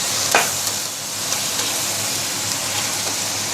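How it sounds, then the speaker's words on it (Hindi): Chicken leg pieces hit fried onions in hot oil and sizzle. A close, steady hiss continues throughout, with small crackles and a stirring scrape. "अब हम इसमें चिकन डाल देंगे।"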